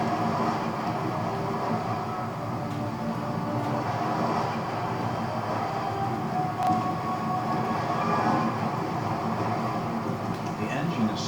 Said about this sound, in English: The engine is slowly pulling away.